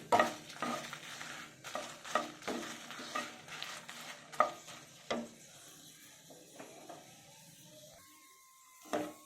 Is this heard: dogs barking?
no